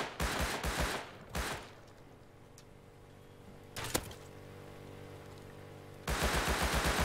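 Gunfire in the video game Rust: a quick cluster of loud shots, then a quieter stretch with a single sharp crack, followed by another rapid burst of shots at the end.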